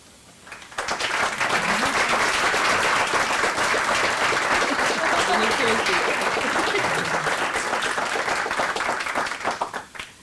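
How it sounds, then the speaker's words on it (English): An audience applauding at a hospital improvement report-out meeting, a sustained burst of many hands clapping that starts abruptly, holds steady and fades near the end. "great to receive applause halfway through"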